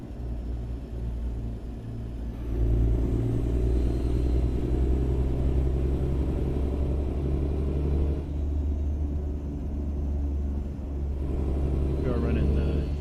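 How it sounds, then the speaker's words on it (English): A Kenworth T600 truck engine in American Truck Simulator hums and rumbles at a low, steady pitch, swelling as it revs, with someone talking over it. "I like how the RPMs rev for the engine and everything."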